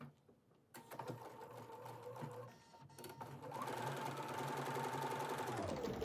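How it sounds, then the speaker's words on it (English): A sewing machine stitches quilt fabric along a drawn line, starting with a few slow stitches, then settling into a steady, fast, moderately quiet whir, heard close and with no talk. "We are going to sew just to the outside or to the right of the line that we drew."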